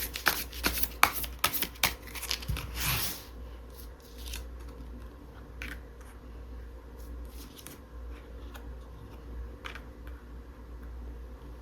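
Tarot cards being shuffled and drawn, with a quick flurry of crisp riffling snaps up close for about three seconds, followed by quieter scattered card slides and taps against a low steady hum.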